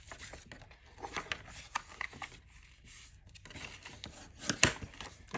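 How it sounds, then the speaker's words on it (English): Cardstock folio being folded along scored lines, with crisp creasing, crinkling and rubbing handled up close in short irregular bursts, a louder sharp crinkle near the end. "fold your folio on those score line where we scored"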